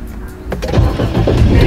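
A car engine turns over and runs close by in a cold early-morning traffic jam stretching onto a bridge, a loud rising mechanical surge after a quieter start, with no talk.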